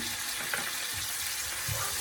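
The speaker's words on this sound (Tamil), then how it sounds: "இந்த கரைச்சி வச்சிருக்கிற புளியம்பழம் அதை இதுக்குள்ள சேர்த்துக்கொள்ளுவோம்" Tamarind water pours steadily into a pan over medium heat with a continuous hiss and splash, close and fairly loud, alone without any voices.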